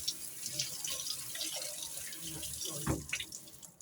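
Pigeon meat being rinsed under a running kitchen tap, a steady close splash of water into a sink with brief louder gushes as the meat is turned, no speech over it.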